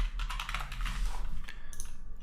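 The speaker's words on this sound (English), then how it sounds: "we are going to be typing in progress." Quick typing on a computer keyboard, a close run of light clicking keystrokes over a low steady hum, with no talk.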